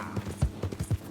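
Horse hooves clip-clopping at a steady trot while riding in the video game Red Dead Redemption II, a quick rhythmic run of muffled thuds, close and moderately loud.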